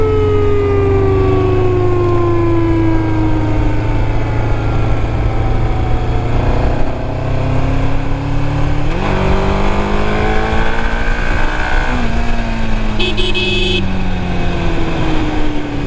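An old vehicle with worn brakes sounds its whistle horn, a loud sustained wail of gliding tones that sweeps down and back up over a constant engine rumble, with no talk.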